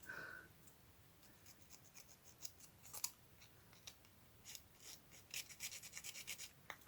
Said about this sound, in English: I'm just using my scissor to do that